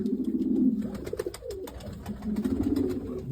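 A jumbo pigeon coos in low, throaty rolls, repeating close by with a short pause in the middle.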